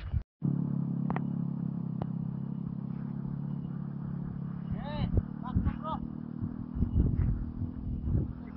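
A car rolls along a mountain road with a steady low engine rumble that swells slightly as it passes, while people talk and call out intermittently over it.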